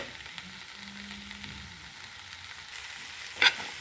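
Ginger paste fries in a pan of bean and tomato curry with a faint, even hiss, a low hum underneath and one brief scrape of stirring near the end.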